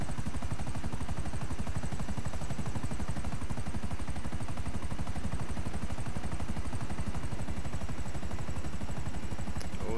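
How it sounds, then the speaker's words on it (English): Helicopter in Grand Theft Auto flying steadily, a dense continuous rotor chop with broad engine roar, loud and close throughout with no talk. "Oh, this copter is a smoking."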